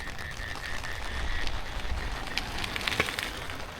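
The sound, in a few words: rain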